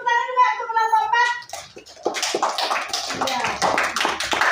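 A voice with a tonal, sing-song quality gives way to scattered clapping from a small group, uneven and close, continuing for several seconds.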